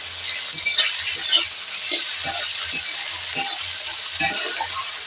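Tomato and spices frying in a pan, a bright continuous close sizzle broken by repeated scraping and knocking of a spoon stirring the mixture, with no voices.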